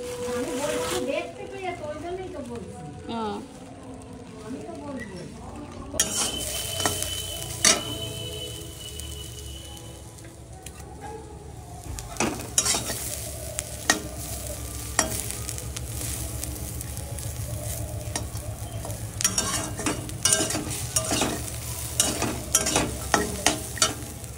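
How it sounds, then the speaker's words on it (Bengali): Paratha frying in a pan with a soft steady sizzle, broken by frequent scraping and clinking of a spatula against the pan that grows busier toward the end, while people talk throughout. "এই দেখো এখন পরোটা তৈরি হচ্ছে"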